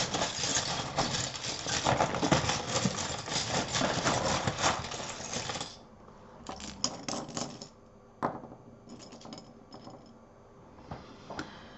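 Seashells cast for divination, loose clattering and rattling that runs dense for several seconds, then scattered small clicks and taps as the shells settle, close and fairly quiet.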